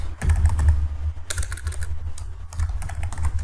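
Fast, close keystrokes on a computer keyboard while typing C code, a dense run of clicks with a few short pauses and a loud spacebar-like hit in the middle.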